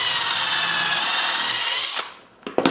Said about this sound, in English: drill a couple of pocket holes